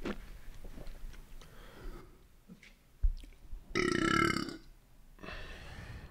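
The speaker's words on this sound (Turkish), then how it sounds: "Al işte böyle geyir." A loud, drawn-out burp after drinking soda erupts at about four seconds, preceded by quieter rustling and short sounds from a nearby person, then followed by a softer belch-like rumble.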